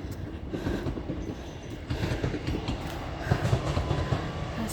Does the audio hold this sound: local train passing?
yes